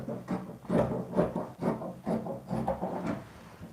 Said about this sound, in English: I will now cut my sleeve out